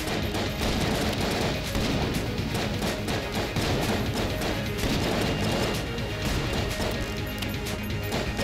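A gun blasts away in Enter the Gungeon, a loud, dense stream of rapid shots and crashing impacts that continues without pause.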